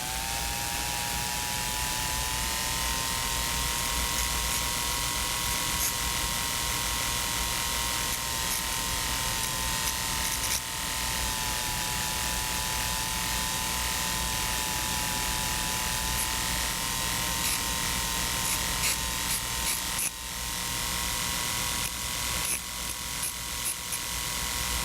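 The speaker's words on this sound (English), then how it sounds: "with a suitable carborundum stone, the 45-degree bevel is established around the periphery of the backing" Carborundum stone grinding a 45-degree bevel around the edge of a Steele's Trupontic dental backing, a steady high-pitched whirring hiss of a rotary tool that runs continuously and evenly throughout, with faint scratchy variations.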